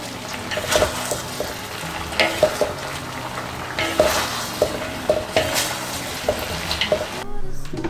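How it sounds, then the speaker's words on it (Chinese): Green and yellow peppers stirred into braised chicken and potatoes in a wok, loud close sizzling with repeated scraping strokes of the spatula and clinks against the metal. "搅拌均匀。"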